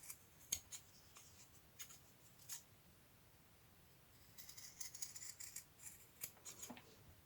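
Scissors snip paper for a scrapbook-style craft piece, giving faint, quiet, close cuts: a few separate snips, then a quicker cluster of small crisp clips.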